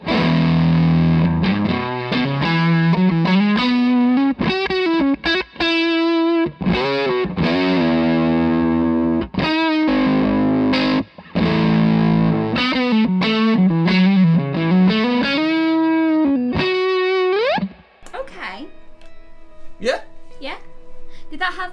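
Electric guitar played through a fuzz pedal, thick saturated notes and chords sustaining loudly in a steady riff, ending with a few quieter plucked notes.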